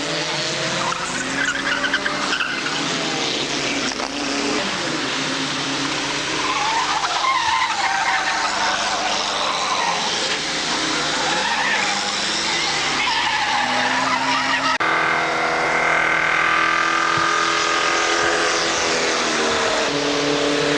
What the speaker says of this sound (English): Cars coming out for the race now.